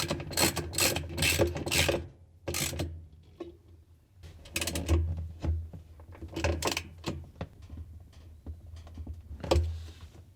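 Ratcheting clicks while a bolt is tightened on a Samsung washing machine pulsator wash plate, in short bursts of rapid close-up clicking separated by brief pauses.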